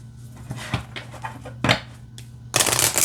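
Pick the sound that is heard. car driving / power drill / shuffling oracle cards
shuffling oracle cards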